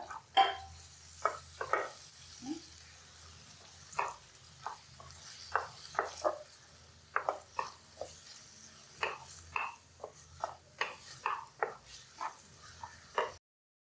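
Prawn curry masala being stirred in a frying pan, with irregular bursts of scraping and clinking over a low, steady sizzle and no voices.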